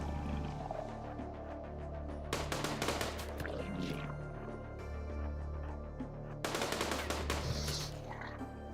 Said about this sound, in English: Heavy SMGs are super good for this. They fire so fast.